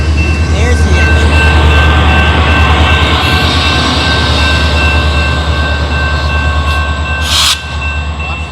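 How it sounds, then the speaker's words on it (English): A freight train reversing through Plymouth, Michigan rolls close by with a loud, steady rumble and a low engine drone, with a high squeal rising near the end. Someone speaks over the noise. "Some type of unexpected train car reversal."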